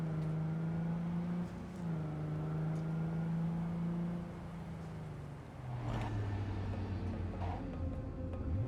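Car driving in the video game Cyberpunk 2077, a steady droning engine tone that shifts pitch as it changes gear or speed, continuous throughout with faint background game sounds.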